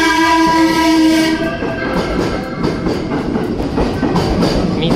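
A loud horn from a JR 321 series electric train sounds in steady tones over the rumble of the train at a station in Akashi, Japan, then fades into continuous rail noise and clatter.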